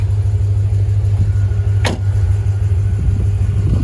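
A Corvette engine idles steadily and loudly up close after ignition and coolant repairs, a constant low rumble holding throughout with one brief high whine sweeping past midway.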